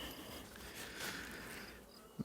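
Dense, close buzzing hum of many honeybees at an opened hive during an inspection of a nucleus colony, continuous and fairly quiet, with a brief knock at the end.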